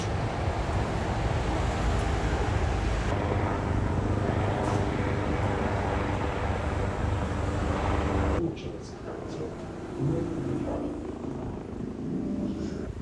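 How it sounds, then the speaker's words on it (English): A helicopter circles overhead during a Genoa-Sampdoria derby, a steady rumbling drone that fills the air and then drops to a quieter, more distant level, with some speech over it. "So we have a bloody helicopter flying around."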